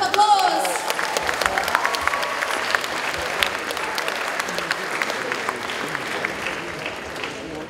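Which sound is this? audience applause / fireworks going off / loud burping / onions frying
audience applause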